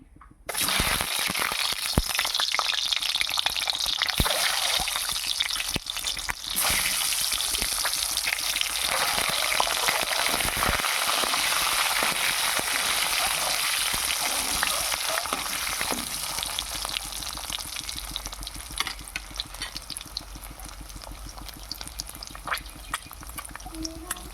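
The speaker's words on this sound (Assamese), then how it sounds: "এতিয়া মই ডিমকেইটা ফ্ৰাই কৰি লওঁ" Boiled, peeled eggs frying in hot oil in a pan, a loud, continuous crackling sizzle that sets in after a brief quiet start and runs nearly unbroken, easing slightly toward the end.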